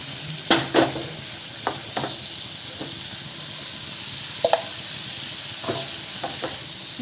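Raw banana fry being stirred in a pan, a steady close sizzle and hiss broken by several sharp scrapes and clacks of the spatula against the pan, with no one speaking.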